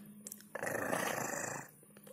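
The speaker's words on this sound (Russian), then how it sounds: "Рычит." Pet in a toy pony setting giving a low, rumbling growl lasting about a second, close and fairly quiet, with soft rustling before and after.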